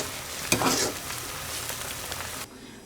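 Strips of beef tongue go into boiling seasoned broth for a Sichuan spicy boiled dish, giving a brief splash near the start, then a steady, fairly close bubbling hiss that cuts off abruptly near the end.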